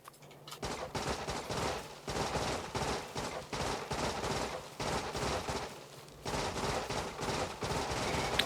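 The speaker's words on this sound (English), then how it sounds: "We're gonna get all these trees out of my way by shooting them." Rapid weapon fire in Factorio, with a shotgun used to clear trees. Dense bursts of shots come in long runs separated by brief pauses, steady and fairly loud.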